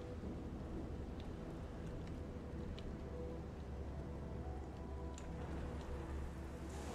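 Rain falls steadily in the video game Strayed Light, a constant soft hiss of drops with low rumbling underneath, faint and unbroken throughout with no talk.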